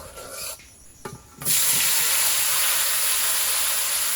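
Whole cardamom and cumin seeds sizzle and hiss in a hot pan for mango pickle, a quiet scraping stir at first, then a sudden loud, steady frying hiss that holds to the end.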